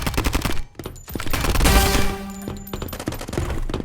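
Gunfire in the mobile shooter game Mini World Royale, in a gun duel mode: dense, loud automatic bursts and rapid shots come up close over a busy game soundtrack throughout.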